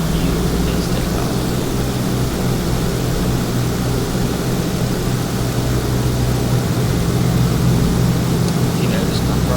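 A DC-6 propeller airliner takes off in Microsoft Flight with a loud, steady, unbroken roar of its piston engines and propellers, heard from outside the aircraft.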